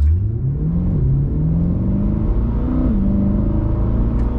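A 2020 Corvette C8 pulls away hard from a complete stop in an office park, its engine revving up and rising in pitch, shifting and climbing again, loud and close throughout with no talking.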